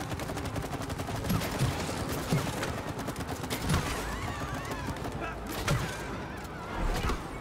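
Rapid gunfire in the It Takes Two co-op video game, a dense stream of overlapping shots and impacts running steadily through the scene with game effects layered on top.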